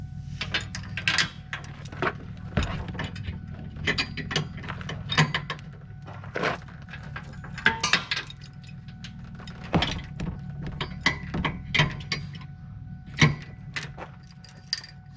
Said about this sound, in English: For towing, lower the tongue with the jack onto a 2-inch ball.